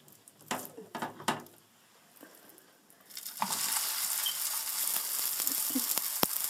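Reziza dough hits a hot non-stick saucepan over medium-high heat. A few light clicks and taps come first, then after a quiet pause a loud, sustained frying sizzle sets in and continues steadily to the end.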